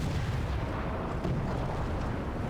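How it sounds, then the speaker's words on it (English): Fireball spells exploding in the Skyrim game land as muffled, low booming bursts under a rumbling, fairly quiet background, with several indistinct impacts and no talking. "heard some fireball explosions"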